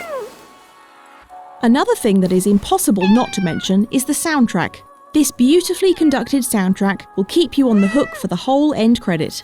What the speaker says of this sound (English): You can also hear adorable meowing sounds from time to time during the game.